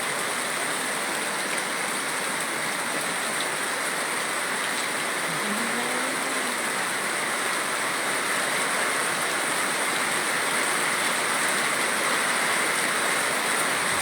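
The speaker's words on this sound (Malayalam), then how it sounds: "ഭയങ്കര മഴയാണ് പെയ്യുന്നത്." Steady, heavy rushing of rain in Neyyattinkara, Thiruvananthapuram, Kerala, fills the whole stretch, a dense unbroken wash of noise with no voices.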